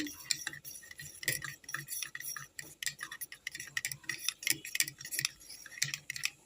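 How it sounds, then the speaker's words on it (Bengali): Yogurt (curd) being whisked in a bowl for a cauliflower curry, with quick uneven clinks and scrapes of a utensil against the bowl, close up and alone. "এই ফাঁকে আমি দইটাকে খুব ভালো করে ফিটিয়ে নিচ্ছি"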